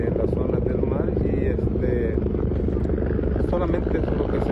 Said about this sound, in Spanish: son dos helicópteros, UH-1H, los que andan sobrevolando lo que es la zona del mar